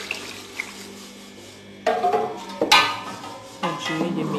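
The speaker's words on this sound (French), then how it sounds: "je vais maintenant prendre mon eau tiède avec du canouan et je vais mettre à l'intérieur" Warm water mixed with kanwa splashes into a koki bean mixture for a West Cameroon dish, arriving in a few separate, sloshing pours against a bowl with faint clinks between them.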